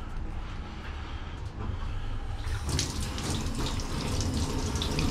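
Running water poured over a zinc plate, a steady splashing hiss that swells louder and brighter partway through as the flow increases, close and alone with no talk.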